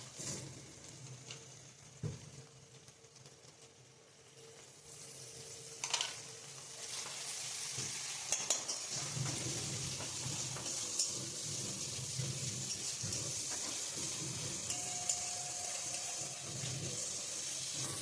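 Spice paste of Kashmiri chilli, coriander and cumin powder frying and being stirred in a pan for a cauliflower roast, a steady close sizzle with scraping stir strokes throughout.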